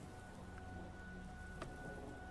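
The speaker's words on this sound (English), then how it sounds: "nearly drowned out by the rain outside" Steady rain falls outside, a soft continuous hiss with faint scattered drop ticks, alone with no voices.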